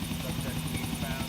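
A helicopter flies in GTA IV, its rotor and engine giving a loud, continuous, throbbing roar that fills the whole moment. A voice may be faintly present beneath it.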